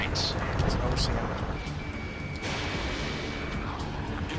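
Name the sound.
gunfire and jet roar in video game Ace Combat 7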